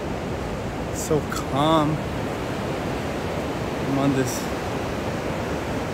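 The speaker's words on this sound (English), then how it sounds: "Hear the water, ocean next to me." Ocean waves wash steadily on a black sand beach in Costa Rica, a constant broad surf roar throughout, while a person speaks briefly twice over it.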